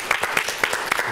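Audience applause at the end of a lecture on the Black Panther Party, with dense, steady clapping throughout a short burst.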